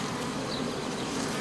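Honeybees droning steadily at a hive at dusk, a dense continuous buzz close by with no talking.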